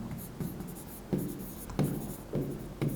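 Chalk or marker strokes on a lecture board while an equation is written out, giving four or five short scratchy bursts in an uneven rhythm, close and clear with no talk over them.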